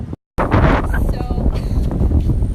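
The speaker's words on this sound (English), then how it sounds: "it's super windy and super sunny here at this park on Eldridge in Houston" Strong gusting wind at a sunny park in Houston after Hurricane Harvey, buffeting the microphone with heavy low rumble after a brief dropout, with a voice speaking over it.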